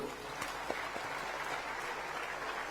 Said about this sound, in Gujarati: એકવાર ખૂબ જોરદાર તાળીઓ હોવી જોઈએ